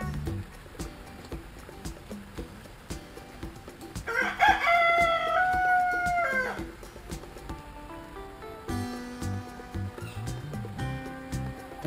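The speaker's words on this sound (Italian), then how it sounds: "È venuto anche il gallo, sì." A rooster at a playground crows once, loud and drawn out in the middle of the clip, over outdoor background noise and scattered soft sounds.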